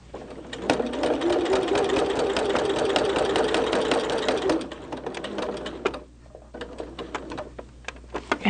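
A sewing machine stitching a Christmas tree quilt runs in a fast, steady mechanical whir for several seconds, then slows and stops with a few isolated stitch clicks.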